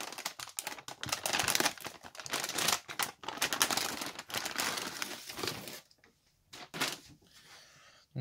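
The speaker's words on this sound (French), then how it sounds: "Et donc on va déballer directement la carte graphique." A graphics card is unboxed from its packaging, with close crinkling of plastic and foam, rustling cardboard and a few sharp knocks, followed by a quieter stretch.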